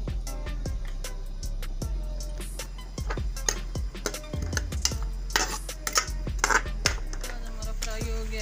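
Onions in hot oil for vegetable pulao, stirred in a pan: a steady frying hiss with repeated metallic clinks and scrapes from a spoon on the pot, close up and with no voices.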